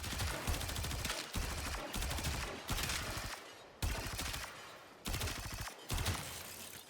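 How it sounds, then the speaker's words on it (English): Rapid automatic fire from the Ambassador rifle in Warframe, sounding as a series of dense, loud bursts that each last about a second, with brief gaps between them and no talking. "the primary fire or the auto fire is this rapid fire rifle thing, and it actually does decent DPS and it sounds pretty cool too"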